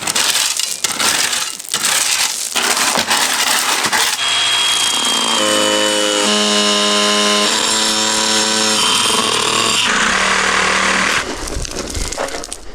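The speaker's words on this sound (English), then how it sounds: "I'm going to cut this off" A power tool cuts off an old basement floor drain in a 108-year-old house with a loud, continuous grinding screech. The sound holds at full intensity for the whole stretch, and a shrill ringing whine rises as the blade bites into the metal.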